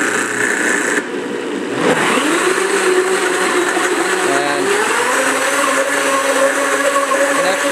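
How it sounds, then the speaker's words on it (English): A countertop blender on its soup setting blends coconut kefir, a loud continuous motor whir that starts up abruptly and settles into a steady high-powered drone, close and uninterrupted. "So one of the things here that I'm doing with the blender, I'll just hit soup"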